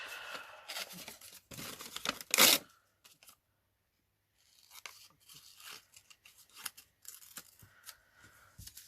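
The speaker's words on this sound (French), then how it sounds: "Découper des feuilles." Scissors snip through paper to cut out leaf shapes, a series of crisp close snips and rustling paper noises in uneven bursts, with a brief silent pause midway.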